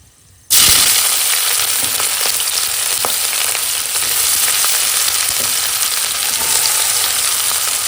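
Onions hit hot oil in which large dried red chillies have already fried, for a thin chicken curry. A loud, close sizzle bursts in suddenly and holds steady throughout, with faint scraping of stirring underneath.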